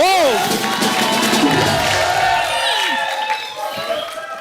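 A studio audience at The Kapil Sharma Show cheers and applauds as a guest is welcomed, with shouts and whistles over a crowd roar that gradually eases.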